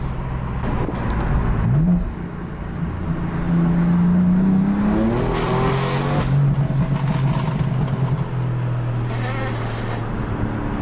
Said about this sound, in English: The crackle's louder than the exhaust.